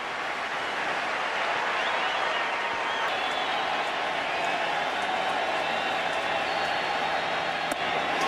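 A sold-out crowd at Game 4 of the 2011 World Series, St. Louis Cardinals versus Texas Rangers, roaring and applauding after a strikeout, a loud sustained wash of cheering.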